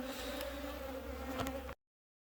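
A steady, dense buzz of many honeybees humming close by around an open hive, continuous throughout before cutting off abruptly.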